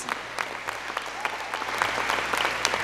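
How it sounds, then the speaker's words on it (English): Audience applause at a district state-of-the-district event, sustained clapping from a crowd with sharp individual claps standing out, continuing steadily. "let's have a big round of applause."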